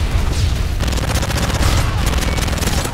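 Rapid automatic gunfire in Modern Warfare 3 (2011) rattles loud and close in dense bursts that continue without pause, with a voice faintly present beneath.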